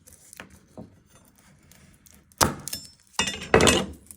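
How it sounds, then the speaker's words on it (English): A knife trims the ends off two garlic cloves on a cutting board, giving a few faint early taps and then two louder, sharp chopping thunks near the end, with no talking. "You want to get 2 garlic cloves and you want to trim the ends."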